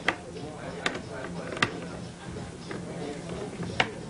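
Wrench tightening skateboard truck nuts, giving a few faint, sharp metallic ticks spaced irregularly over a quiet room background.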